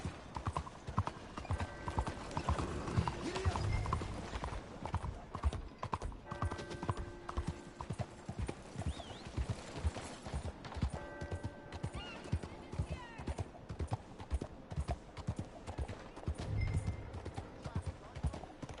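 Horse hooves gallop in a steady, rapid clip-clop rhythm through Red Dead Redemption 2's open world, loud and continuous with occasional whinnies and ambient game sounds layered beneath.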